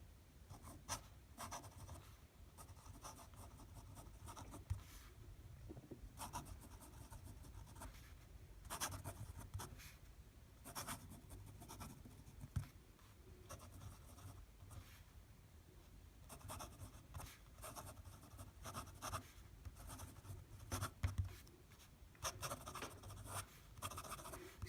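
A Pilot Elite 95S fountain pen with a springy nib writes fast on paper, giving a close, quiet series of scratchy strokes and taps in quick irregular bursts with brief pauses.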